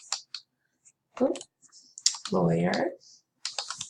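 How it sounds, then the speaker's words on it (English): Brief bursts of clicking on a computer keyboard come at the start and end, with a person speaking in between and partly over the keystrokes. "let's go ahead and type in"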